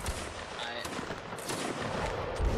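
Musket volleys crackle in a Napoleonic Wars line battle in the video game Mount and Blade Warband, a dense, continuous rattle of near and distant shots blending into a loud wall of gunfire.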